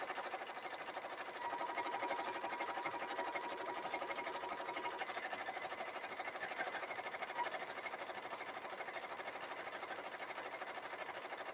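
An embroidery machine stitches out overlapped letters at a steady pace, a continuous fast needle chatter with a light mechanical rattle, moderately faint and unchanging throughout.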